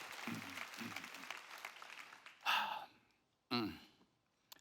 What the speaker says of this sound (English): I think we can clap even though we can't hear us.